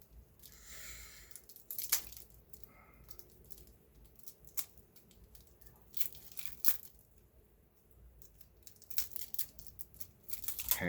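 Cellophane wrapping is peeled and torn off a tarot card deck, producing quiet, close crinkling with sharp intermittent tearing crackles scattered across the stretch.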